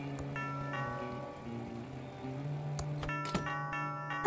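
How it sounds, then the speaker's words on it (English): Doorbell chime in the video game Thimbleweed Park, a few clear ringing tones that sound one after another at moderate volume over quiet game background. "That sounds like the doorbell."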